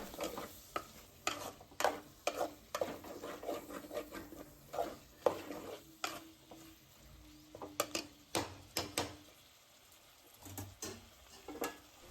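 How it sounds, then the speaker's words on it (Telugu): A spoon stirs tomatoes and turmeric into mutton boti curry in a pan, giving soft scraping and clinking strokes in an irregular rhythm with faint sizzling underneath, fairly quiet and close. "మంచిగా కలిసేటట్టు కలుపుకొని"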